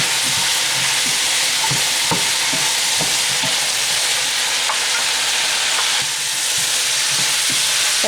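Vegetables for pancit stir-fried in a pan, a loud steady sizzle and hiss throughout with scattered scraping stirs and clinks, no voices.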